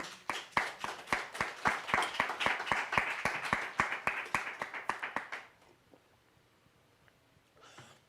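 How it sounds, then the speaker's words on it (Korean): A church congregation at a revival meeting claps in unison, a steady rhythmic beat of about twenty sharp claps over five seconds that then stops abruptly, leaving near silence with a faint sound near the end. "할렐루야. 우리 박수 한번 하겠습니다."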